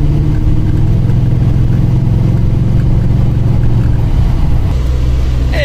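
A 1999 Mercedes-Benz W140 S500 with its V8 running while driving on a hot day, a loud, steady low engine drone and road rumble throughout, close and continuous with no talk.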